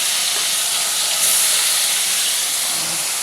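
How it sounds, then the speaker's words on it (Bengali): Bata fish frying in oil in a kadai give off a loud, steady, unbroken sizzling hiss that holds close and even throughout, with no talking. "আজকে নিয়েছি বাটা মাছ ভাজতে দিলাম কড়াতে"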